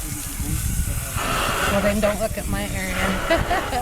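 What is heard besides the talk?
hose spraying water on wall in background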